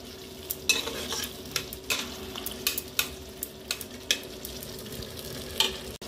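A spoon scrapes and stirs through a pan of sauce with ketchup and water, chicken and cauliflower dish, in irregular knocks and scrapes over a soft background sizzle.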